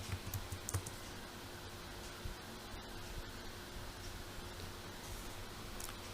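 Faint computer keyboard typing, a few soft clicks and taps over steady background noise, with no voices.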